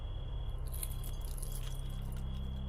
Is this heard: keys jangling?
yes